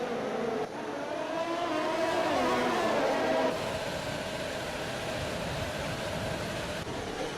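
Formula 1 car engines from an F1 video game race at Monaco whine steadily at a distance, a continuous droning field of motors with a brief rising pitch sweep early on, no voices.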